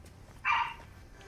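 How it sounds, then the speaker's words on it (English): A single short dog bark inside the Fortnite video game, one clear mid-pitched burst rising over a low background hum, heard alone without talk. "These dogs be barking for no reason."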